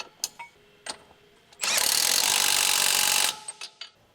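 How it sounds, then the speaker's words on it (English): A large electric impact wrench with a 24mm long socket tightens the front air suspension lower retaining bolt on a 2013 Dodge Ram 1500, sounding as one loud, continuous buzzing burst of just under two seconds between faint clicks and handling noises. "Using the 21mm wrench, large 24mm long socket, and large electric impact wrench, tighten the front air suspension lower retaining bolt."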